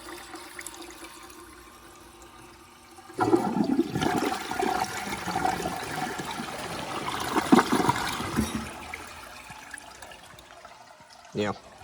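A 2012 VitrA Evergreen toilet is flushed: quiet room tone, then a sudden loud rushing flush that swirls and gurgles for about six seconds before fading to a trickle, with a short knock near the end.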